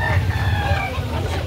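White Kelso gamefowl rooster crowing close by over steady low background noise, with other chickens clucking faintly around it.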